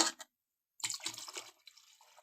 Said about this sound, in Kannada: ನಾನು ಇದಕ್ಕೆ ಇನ್ನೂ ಸ್ವಲ್ಪ ನೀರು ಹಾಕ್ಕೊತೀನಿ ಇವಾಗ